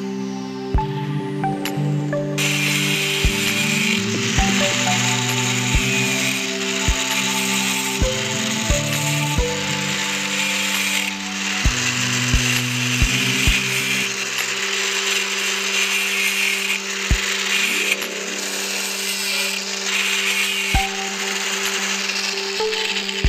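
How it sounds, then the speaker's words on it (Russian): Angle grinder trimming the edges of a wire mesh disc for a drill, a loud continuous whine with rough buzzing as the disc cuts through the metal mesh, broken by sharp clicks and brief dips in pitch. "Ну а теперь я подровняю все края при помощи болгарки."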